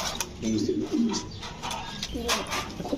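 A large black pigeon coos in repeated low, throaty rolls, fairly close, with steady background noise behind it.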